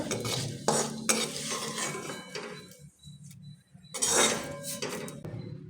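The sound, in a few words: poha being roasted and stirred in a pan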